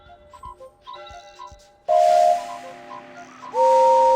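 Edward's steam engine whistle from a Thomas and Friends PC game gives two loud, clear sustained blasts after some softer chiming tones, with a breathy hiss under the second blast.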